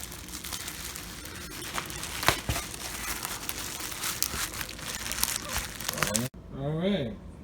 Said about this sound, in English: Couldn't unwrap the bubble wrap with only one hand.